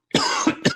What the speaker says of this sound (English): Muff coughs, catching her attention.